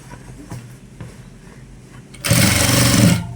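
An electric sewing machine stitching a uniform shirt, starting with quieter low whirring and handling noises, then bursting into a loud, steady run of rapid stitching for about a second before stopping.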